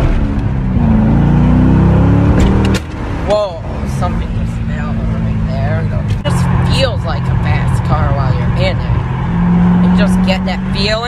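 A 2009 Chevrolet Corvette C6 custom drives through a tunnel, its engine a loud, steady rumble that swells and echoes off the walls, with voices talking over it inside the cabin.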